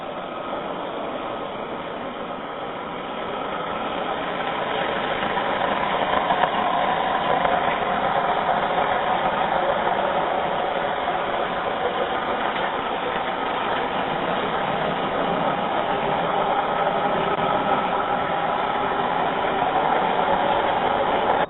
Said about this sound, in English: Yeah, the ferry is extremely loud.